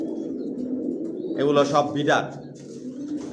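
Pigeons in a stock loft give a short burst of cooing near the middle, close by, while someone talks over it.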